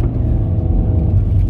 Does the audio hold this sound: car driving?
yes